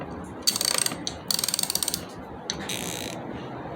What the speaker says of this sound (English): This Craftsman ratchet, I don't know if this is made in USA or not, but this one sounds more like the snap-on one compared to this.